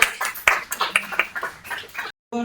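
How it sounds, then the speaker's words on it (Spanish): Audience at a study meeting clapping for a guest speaker, scattered and uneven hand claps with sharp peaks, fairly close, ending abruptly in a brief silence. "un fuerte aplauso también para Lucas Olmedo"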